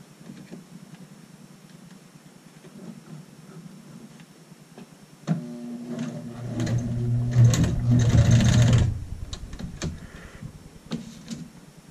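A sewing machine back stitching across a shirt pocket on a child's shirt runs in a short loud burst of rapid stitching after a quiet stretch with faint handling noises.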